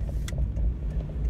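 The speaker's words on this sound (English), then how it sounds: "I was stopped at a stop sign and a police truck went by" A police CSI truck rumbling past a car stopped at a stop sign, a low steady engine drone heard from inside the vehicle.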